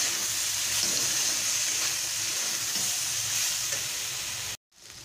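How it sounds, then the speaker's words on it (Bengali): Water spinach stirred with turmeric and chili powder in a hot pan, a steady close sizzle with a soft scraping stir underneath, cut off abruptly near the end. "এবারে আমি 1 টিস্পুন হলুদ গুঁড়ো দেব, 1 টিস্পুন লঙ্কা গুঁড়ো দেব, দিয়ে ভালো করে এটা আমি মিশিয়ে নেব।"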